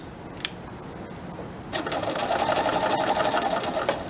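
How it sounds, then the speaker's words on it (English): Sewing machine running in reverse to back stitch through fabric: quiet handling for the first moments, then a steady, close whirring stitch that holds for a couple of seconds before easing off. "I'm going to go ahead and start back stitch"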